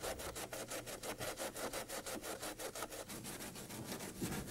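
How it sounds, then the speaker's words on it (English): Rhythmic back-and-forth sawing as a hand saw cuts an opening through the side air scoop of a Rotorway kit helicopter body, steady close strokes about five per second with no talking. "Cut an opening in the side air scoops as shown."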